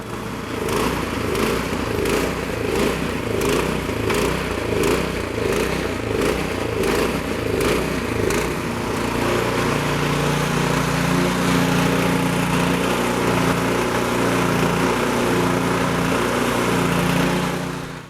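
A Troy-Bilt Storm 2410 snowblower's small engine, fitted with a replacement carburetor, runs at full throttle with the choke off, giving a loud, steady, smooth drone throughout with no talking.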